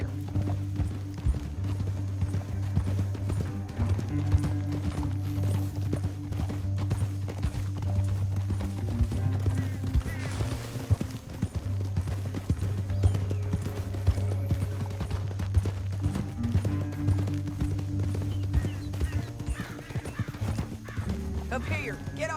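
Horses gallop with steady rhythmic hoof clip-clop and occasional whinnies in the Red Dead Redemption II video game, continuous and prominent, with a low musical drone and voices talking throughout.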